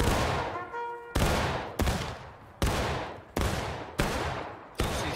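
A historical battle reenactment on a woodland field crackles with rifle fire: about seven loud, close shots in uneven succession, each ending in a long rolling echo, with no voices between the reports.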